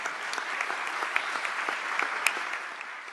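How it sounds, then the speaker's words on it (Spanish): Seminar audience at a municipal reform event applauding the mayor, a steady wash of many hands clapping at even loudness throughout, with no talk over it. "Les pido un aplauso al alcalde."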